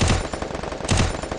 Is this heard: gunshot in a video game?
yes